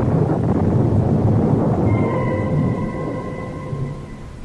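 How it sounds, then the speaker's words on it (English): A thunderstorm sound effect in a radio drama: loud, rolling low rumble that fades somewhat toward the end, with a faint tonal hum entering partway through, no voices. "the clouds are gathering and the storm is at my heels"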